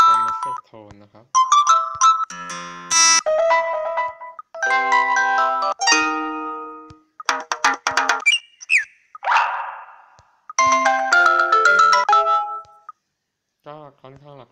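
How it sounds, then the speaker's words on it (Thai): Ringtones on an Oppo A-series Joy5 phone are previewed one after another: a series of bright, clean electronic melodies, each a few seconds long with short gaps between them, heard close and with no talking. "มาดูตัวริงโทนตอนนี้อ๋อก็เยอะเหมือนกัน"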